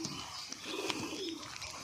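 Pigeons coo softly close by during light drizzle, a few low murmuring calls over faint background noise.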